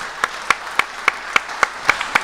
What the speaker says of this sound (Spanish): sí, podemos aplaudir